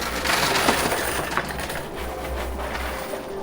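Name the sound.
quarters dropping in casino coin pusher machine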